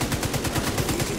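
An automated turret in The Division 2 firing at an enemy, a steady rapid stream of evenly spaced gunshots, loud and close, with no voices.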